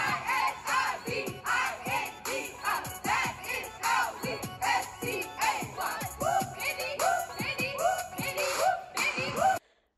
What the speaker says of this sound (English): Izza Bendy's house hype cheer sounds like this